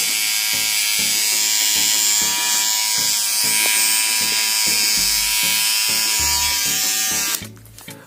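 HTC electric hair trimmer running steadily, a continuous close buzzing whine for about seven seconds that cuts off near the end, with a person talking over it.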